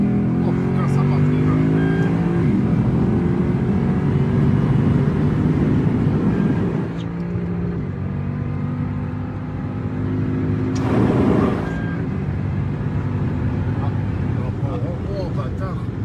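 V8 engine of a Lexus IS F sedan accelerating hard on the Nürburgring toward 270 km/h, a loud, continuous roar that climbs in pitch, drops briefly at a gear change, then rises again under excited in-car voices.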